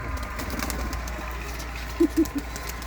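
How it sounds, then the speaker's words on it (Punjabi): Pigeons coo in a kept flock, three soft low coos in quick succession near the end, over a faint background hum and rustle. "ਇੱਧਰ ਵੀ ਕਬੂਤਰ ਹੀ ਨੇ ਬਾਈ ਸਾਰੇ ਦੇ ਸਾਰੇ"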